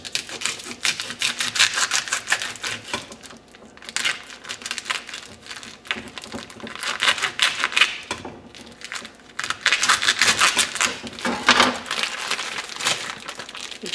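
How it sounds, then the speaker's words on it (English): A tempeh package being cut open, its plastic wrapping crinkling and rustling in close, irregular bursts of scratchy crackles with brief pauses between them, and no voices. "Now we're going to go ahead and cut the tempeh open."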